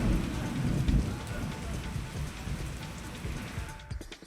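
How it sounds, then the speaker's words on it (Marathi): Heavy unseasonal rain pours down in Buldhana town, a dense, steady hiss of drops striking surfaces that stays loud and unbroken for the whole stretch. "बुलढाणा शहरामध्ये अवकाळी पावसानं दमदार हजेरी लावली"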